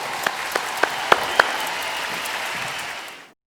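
Audience at a diamond industry forum keynote claps, a moderate round of applause with a few sharp individual claps standing out early, then fading and cutting off abruptly.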